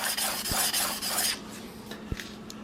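Samurai single bevel broadhead drawn across a 1200 grit sharpening stone, giving soft rasping strokes that run steadily for the first half and then fade to faint scraping with a couple of light taps.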